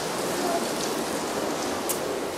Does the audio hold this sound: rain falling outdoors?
yes